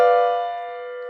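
A diminished chord rings out on a piano, struck once and held as a sustained, steady tone that fades gently, heard alone.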